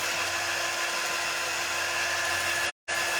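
A heat tool blows a constant, loud, close whirring rush of air while drying a layered paper craft piece for a Valentine heart, cutting out briefly near the end before resuming.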